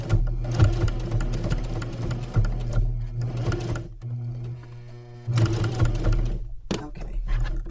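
Domestic sewing machine running a 1/4 inch seam on a travel belt, a close steady motor whir in long bursts with a short pause midway before stitching resumes.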